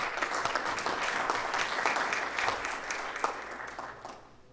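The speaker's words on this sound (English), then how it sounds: "Give them a big round of applause." An audience at an Oklahoma civic event in Henryetta applauds for several seconds, a steady wash of clapping that gradually fades out at the end.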